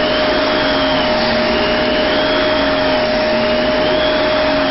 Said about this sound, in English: You're constantly having to vacuum the pet hair.